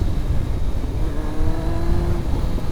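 A Kawasaki ZX-9R motorcycle engine revs during wheelie practice, a close, loud, rising drone that swells and holds for a few seconds before easing, with no talk over it.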